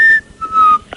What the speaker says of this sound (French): Mais tu siffles bien aussi, toi.